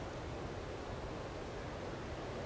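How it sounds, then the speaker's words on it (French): Steady broadband rushing of wind outdoors, constant and fairly loud, with no gusts or other sounds standing out. "le vent il se lève"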